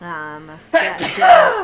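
Single sharp sneeze bursting out right after a man's sung, melodic speech, loud and close, with a breathy explosive onset and noisy tail.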